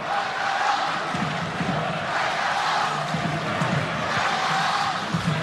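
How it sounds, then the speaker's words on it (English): A home crowd at a Catalans Dragons rugby league match against Hull roars and cheers in a broad, sustained wash of noise from a big stadium, with shouts rising and falling throughout. "Home crowd doing their best to cheer on One. the Dragons."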